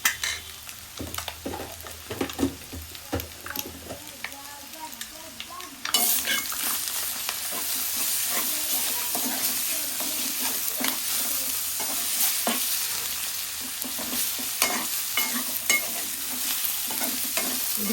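Fresh ginger garlic paste sizzles and fries in a pan for an egg and taro root curry, with steady scraping stirs throughout; the frying grows noticeably louder and brighter after about six seconds, with no talking.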